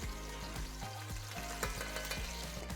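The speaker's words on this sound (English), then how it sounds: "you're gonna now toss in your onion and your garlic" Chopped onion and garlic sizzling in a pot of leftover chicken juices and oil, a soft, steady frying hiss broken by a few scrapes and stirs of a utensil.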